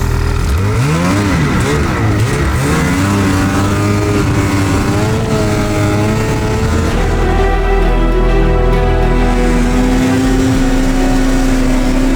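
Snowmobile engine revved hard under throttle, loud and close, pitch sweeping up and down in repeated surges before settling into a sustained high drone.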